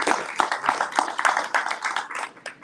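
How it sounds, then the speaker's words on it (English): A small audience at a real estate expo claps in a round of applause, distinct individual hand claps in a quick, uneven patter, close and fairly loud. "give these guys a round of applause and let's get it going"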